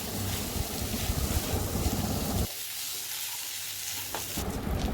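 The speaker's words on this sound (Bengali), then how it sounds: "জলে ভিজিয়ে ধুয়ে রাখা গোবিন্দভোগ চাল দিয়ে দিতে হবে ভালো করে ভাজতে হবে" Soaked, washed Gobindobhog rice fries in a pan with sugar as it is stirred, a close, dense rustling sizzle that drops away briefly midway and returns, with no speech.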